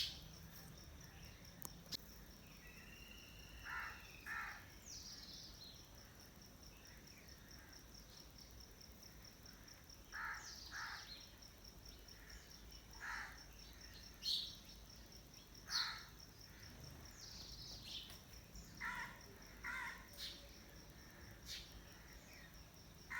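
Birds call from inside a dense tree, with crows cawing among them: scattered short calls and caws spread over a steady background of insect chirring, moderately near, with no talking.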